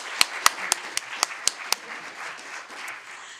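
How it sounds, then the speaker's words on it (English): Sparse, isolated claps from an audience at a beautification awards ceremony, about seven sharp separate hand claps in the first two seconds, then quiet room tone. "I think we should give them a round of applause"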